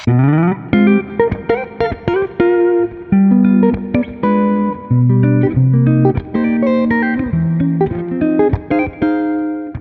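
Neo soul electric guitar lines with chordal stabs and melodic fills, played up close with effects, steady and continuous for about ten seconds with no talking.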